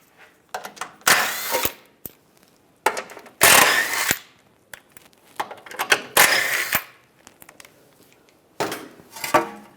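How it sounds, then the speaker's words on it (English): A socket wrench works bolts loose from a panel under a 2007-2013 Chevrolet Silverado, with a series of sharp ratcheting bursts and clicks spaced by short pauses, close and fairly loud. "use a 15mm socket, take these 4 bolts out."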